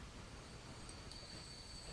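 A train runs in the video game Transport Fever 2, giving a faint, steady rumble with thin, high wheel tones drifting over it.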